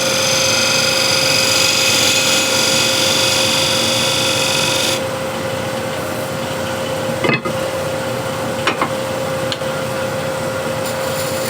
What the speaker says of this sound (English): spindle gouge and just make a little chamfer here, and slight detail here